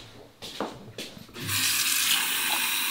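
A glass is filled with water from a tap, with a few clinks and handling sounds first, then a steady loud rush of running water close by.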